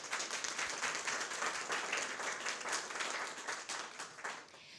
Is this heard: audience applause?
yes